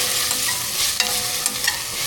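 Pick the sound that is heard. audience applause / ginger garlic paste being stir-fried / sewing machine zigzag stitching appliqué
ginger garlic paste being stir-fried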